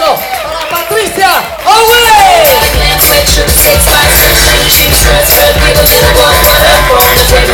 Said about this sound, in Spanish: fuerte el aplauso para Patricia